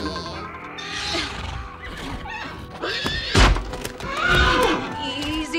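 A horse whinnies loudly in an animated film scene, amid a busy, clattering commotion with thuds around it.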